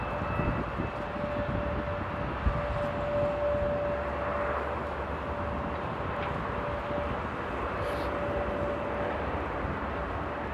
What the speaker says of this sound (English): Love that sound of the E2s.